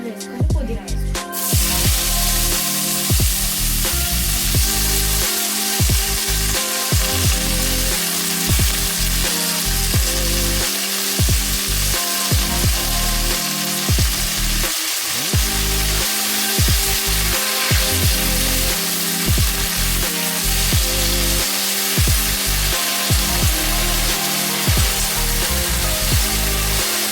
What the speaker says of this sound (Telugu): మనం 2 టేబుల్ స్పూన్ ఆయిల్ వేసుకొని పుదీనా వేసుకోవాలి.